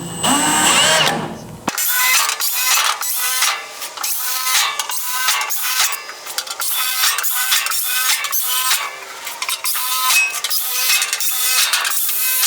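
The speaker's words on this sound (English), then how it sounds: "So I'm just gonna drill these real quick, and then we'll install both of these." A power drill whines loudly into a metal flange for a 1969 Ford Mustang in repeated short bursts, the pitch rising and dipping as the bit bites, close and continuous.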